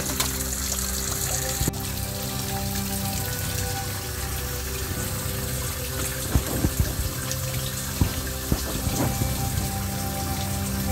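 Food being washed in water in a rural Philippine kitchen, a steady running splash with occasional louder drips and knocks of handling near the end, close and continuous with no speech.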